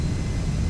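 MD-11 cargo jet engines at takeoff thrust in X-Plane 12 give a steady, loud, broad roar with a deep rumble, heard alone.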